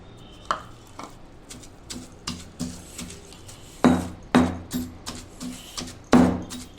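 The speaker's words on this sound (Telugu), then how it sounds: "ఇప్పుడు సన్నగా తరిగిన కొత్తిమీర వేసుకుని ఒకసారి దంచుకుందాము" Rhythmic pestle pounding of chopped coriander into wood apple chutney in a stone mortar, about a dozen dull thuds in steady succession, growing heavier toward the end, close and fairly loud with no talking.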